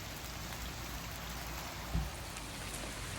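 Steady light rain falls near a trail map kiosk with a small roof on the Appalachian Trail at Unicoi Gap, an even patter with one soft thump partway through.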